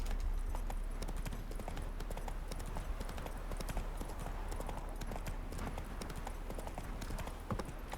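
Hooves of a galloping horse in the video game The Witcher 3, a fast continuous drumming rhythm close up and fairly loud, running for the whole stretch with no talking.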